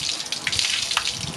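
Water pours out of a laundry tub in a splashing, gushing stream that is bright and uneven. Small surges and spatters sound close by, and no one speaks.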